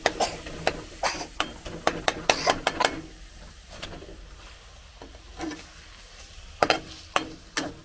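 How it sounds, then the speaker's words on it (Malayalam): Goat brain sautéing in a pan with masala, a spatula stirring and scraping in quick bursts against soft sizzling, close by, easing off midway before a few more firm strokes. "നമുക്ക് ബ്രെയിൻ സോട്ട് ചെയ്യാനായിട്ട് സമയമായി."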